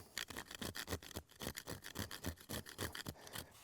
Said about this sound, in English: So now I can take my fat wood, fat lighter, or lighter knot, plenty of names of it, and go to scraping.